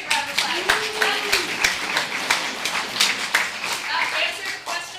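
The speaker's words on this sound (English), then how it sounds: "Let's give that a big round of applause" A theatresports improv audience claps together, a moderately loud burst of many hands with some sharper individual claps standing out, while a voice talks briefly over the start.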